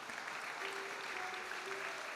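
Audience applause at a church gathering, a steady wash of clapping from a crowd, moderately distant and even throughout the short moment.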